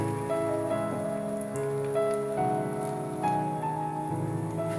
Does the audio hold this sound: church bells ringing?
no